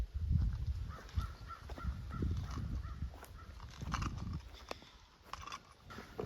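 Several crows caw outdoors near a shed deck in northern Nova Scotia, their harsh calls scattered and moderately distant over low rumbling and thumping background noise, with no voices.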